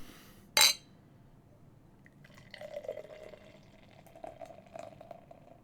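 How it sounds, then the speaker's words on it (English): A drink is poured slowly, with a soft trickling, liquid fill that gurgles faintly for several seconds after a sharp clink. The sound is quiet and close. "Let's get into the theatrics of a 5-minute pour."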